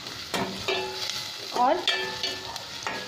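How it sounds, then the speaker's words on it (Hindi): Onions frying in a pan until translucent, with soft sizzling and several scraping clanks of a spoon stirring against the metal, close up; a brief word is spoken. "अब इसे ट्रांसल्यूशन होने तक भून लेंगे"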